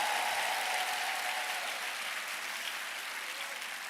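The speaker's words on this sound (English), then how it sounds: "손뼉을 크게 칩시다." Steady applause from a church crowd fills the whole stretch, dense and even, easing off slightly toward the end.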